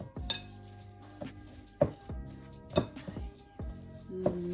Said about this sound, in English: mix them together until the butter is broken